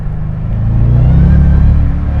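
Supercharged 700hp Shelby GT500 Mustang engine revving up, a loud, steady, deep rumble that swells slightly in the middle and holds close by, with no talk over it.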